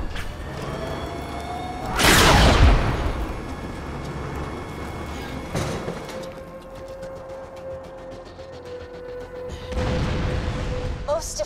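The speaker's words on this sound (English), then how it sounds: "Fire the cannon again." A cannon fires in the Borderlands 2 video game. It gives a loud booming blast near the start, then fainter booms later, with a steady tone and background game sounds in between.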